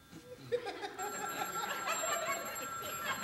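An indoor telephone rings in a steady electronic tone partway through, with a faint chuckle and room noise at the start.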